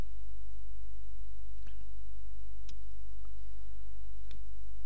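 A computer mouse gives a few sparse, faint clicks over a constant low hum while navigating a website page, with no talking.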